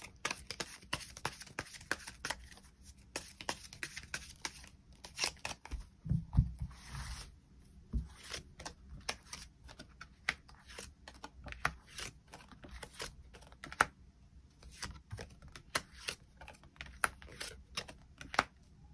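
Tarot cards being shuffled and drawn during a love reading, giving a run of quiet rapid riffling and flicking noises, light papery taps scattered close up over the whole stretch with no talking.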